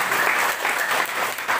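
Church congregation applauding in praise of Jesus during a sermon, a loud, dense and steady wash of many hands clapping with no voices over it.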